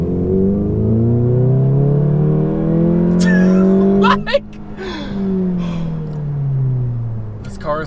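A tuned Volkswagen GTI with an APR tune and Borla exhaust revs hard and climbs through the gears, a loud rising drone with a brief break between shifts, with a voice talking over it.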